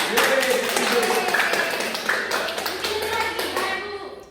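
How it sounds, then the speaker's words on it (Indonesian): A classroom group claps in a burst of scattered applause for classmates, the claps brisk and close and tapering off toward the end, with voices mixed in. "Ayo beri aplaus kepada teman-teman."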